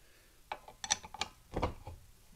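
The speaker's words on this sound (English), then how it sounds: "take a 11/16 inch wrench and go ahead and just take this off, this bolt that goes through the center of the hub" An 11/16 inch wrench works a tight bolt through the center of a plow hub on a Ferguson 2 bottom plow, giving a few sharp metallic clicks and ratcheting scrapes followed by a heavier clunk, close and alone.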